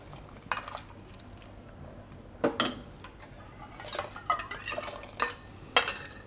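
A spoon stirs mango custard in a metal pot, giving soft scrapes and irregular clinks against the sides and bottom, fairly quiet and close, with no one speaking.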